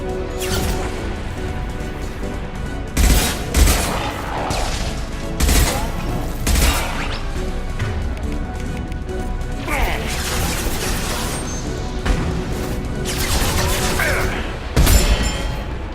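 Gunfire in the video game Mass Effect 2, heavy weapon bursts and loud crashing blasts recurring every few seconds over a continuous mechanical din of battle noise, with a synthetic voice speaking at times.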